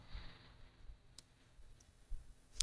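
A few faint, sharp mouse clicks, one near the middle and a crisper one at the very end, over quiet room noise while an option is selected on a computer.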